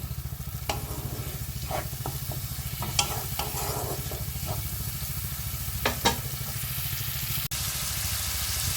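A spice paste with tomato, ginger and a splash of water fries in a pan for a prawn and taro curry, a continuous close sizzle broken by occasional scraping stirs.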